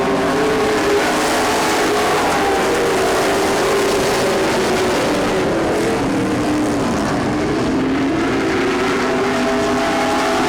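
Race cars in a close three-car pack roar around an oval track late in a race, a steady loud engine drone with shifting pitch as they pass nose to tail.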